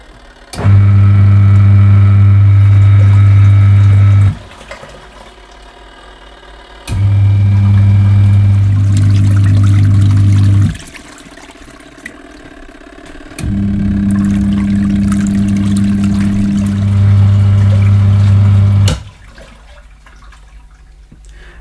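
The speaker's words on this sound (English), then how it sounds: "I'm going to switch the machine on for a few seconds to ensure that all the detergent is thoroughly mixed in with the water." A Leisure Direct GLW-82706 portable washing machine runs in three bursts of several seconds each, its loud motor hum churning water and detergent and then stopping abruptly between runs, with quiet gaps in between.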